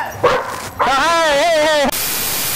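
Dog barking and whining close by in a garage or workshop setting, a short yip followed by a long drawn-out howling whine, loud, with a voice briefly nearby.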